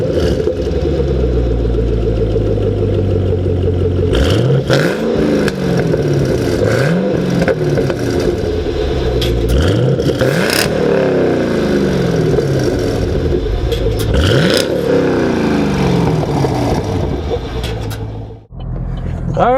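A 2013 Chevrolet Camaro ZL1 V8 starting up and revving repeatedly, loud rising and falling engine sweeps over a steady idle, close by, with the engine cutting off near the end.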